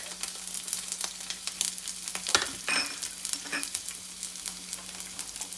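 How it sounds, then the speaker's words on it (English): Ginger and garlic roasting in a pan, a continuous close sizzle with scattered crackles and occasional scraping stirs, loud and alone. "I've kept a pan here and I'm going to roast all this. The ginger garlic."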